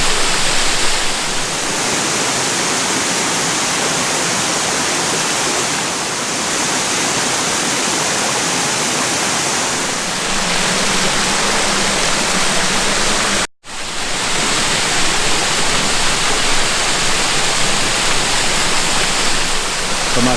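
A waterfall pours over the top of a cave, a steady, loud, broadband rush of falling water that continues unbroken with only a momentary dropout.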